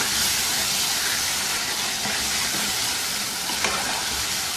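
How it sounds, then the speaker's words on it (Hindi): A spoon stirs tomato masala in a karahi while it fries, giving a steady, loud sizzle and hiss with faint scraping throughout and no voices. "ऐसे ही चम्मच चलाते हुए इसको पकाएंगे कि इसमें जो टमाटर हैं वो घुल जाएं।"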